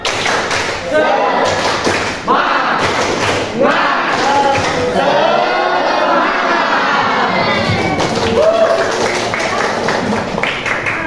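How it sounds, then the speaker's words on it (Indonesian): A classroom group claps in a rhythmic cheer pattern, sharp bursts of clapping and thumps mixed with children shouting and cheering, with voices throughout. "kita tepuk semangat untuk kita semua. Tepuk semangat."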